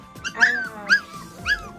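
Young bottle-fed puppies whimper and yip, three short high-pitched cries about half a second apart, close and clear with no talk over them.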